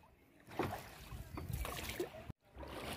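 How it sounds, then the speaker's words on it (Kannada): A boat crossing the Bhima river at Pandharpur gives a steady, close, broadband rush of motor and water noise that cuts out briefly near the end, then resumes. "ಬನ್ನಿ ಇವಾಗ ಆ ದೇವಸ್ಥಾನಕ್ಕೆ ಹೋಗೋಣ ಬೋಟಲ್ಲಿ"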